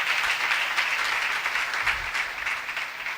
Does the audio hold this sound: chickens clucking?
no